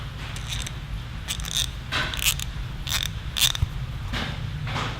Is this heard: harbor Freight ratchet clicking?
yes